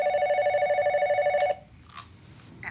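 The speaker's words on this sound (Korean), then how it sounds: "롭은 그동안 기다렸던 전화를 받게 됩니다." A telephone bell rings steadily and loudly for about a second and a half, then cuts off, leaving a quiet room with a few faint small noises.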